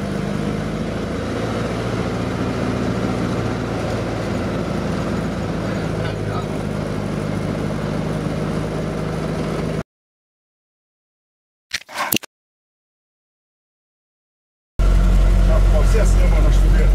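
Old TAM 130 truck engine running as the truck drives off toward home, a steady close low rumble for about ten seconds, then a gap with a brief clatter, and the heavy engine returns loud at the end.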